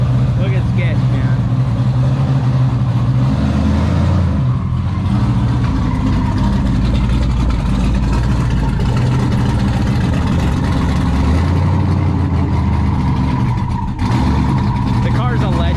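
A car's engine runs steadily after starting on a revived battery, a continuous low rumble with rough idle texture, close by, with people talking over it throughout.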